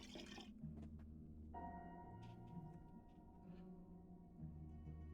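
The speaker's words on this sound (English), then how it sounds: "I'll just pour in a bit of water." Water poured into an empty pot, its ringing tone climbing steadily in pitch as the pot fills, close and clear with no voices.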